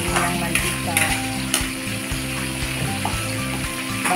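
Tofu and ground pork sautéing in oil, a loud continuous sizzle with a persistent low mechanical hum running beneath it and a few sharp clicks of a spatula against the pan.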